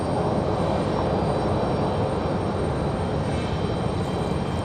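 A Delta Boeing 737-9 jet departing Raleigh-Durham International Airport, a loud, steady, low engine roar filling the whole stretch without a break, heard alone with no voices.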